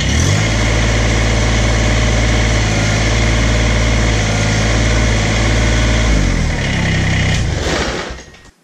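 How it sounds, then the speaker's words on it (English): A compact Kubota BX tractor engine runs steadily at a low, even idle, then winds down and cuts off near the end. "I'm going to start the tractor and raise the deck up and down"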